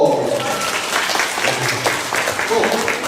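Children at a church revival camp clap together, a dense spatter of hands mixed with lively chatter and voices across the room.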